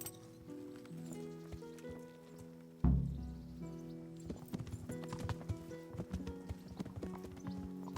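Horse hooves clip-clop in Kingdom Come Deliverance, a steady rhythmic trot of many sharp hoof strikes, with a sudden thud partway through and continuing hoofbeats over faint background tones.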